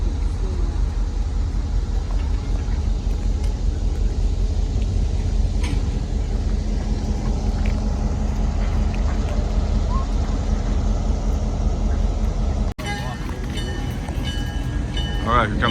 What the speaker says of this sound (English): We get to watch the locomotive turn around